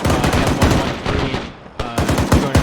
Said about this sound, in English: He's getting some gunfire on that fucking heavy machine gun.